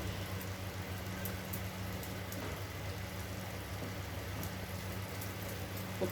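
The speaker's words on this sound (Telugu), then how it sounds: "ఇది ఒక 2-3 మినిట్స్ పడుతుందండి ఫ్రై చేయడానికి. లో ఫ్లేమ్లోనే పెట్టి ఫ్రై చేయండి." Egg and garlic frying in a pan over a low flame, a steady soft crackle and sizzle that continues evenly throughout with no talking.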